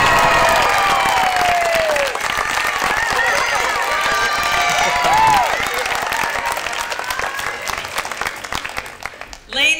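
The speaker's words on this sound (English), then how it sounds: "How about a big round of applause?" A school signing-day audience gives a big round of applause, steady dense clapping with some cheering and shouts, loud and sustained throughout before fading near the end.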